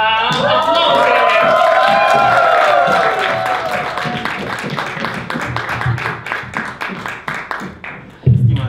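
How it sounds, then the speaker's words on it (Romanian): A theatre audience at a live comedy show claps and cheers loudly, with whoops and shouts at first, then thinning rhythmic clapping that fades before a final burst of noise. "Aplauze!"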